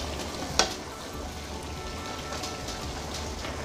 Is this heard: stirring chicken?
yes